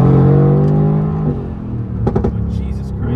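A Mercedes-AMG GT R engine drones loudly from inside the cabin, its pitch sinking steadily before a quick cluster of sharp, punchy bursts as the gears shift aggressively.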